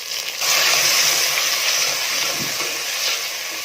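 Tomato goes into a pan of sautéing shallots and green chillies, giving a sudden loud, steady sizzle and hiss that keeps going close by with no talk.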